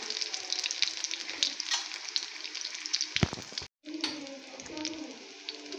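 Potato and chicken cutlets fry in oil in a pan with a bright, continuous close-up sizzle and crackle, briefly cut off for a moment before resuming.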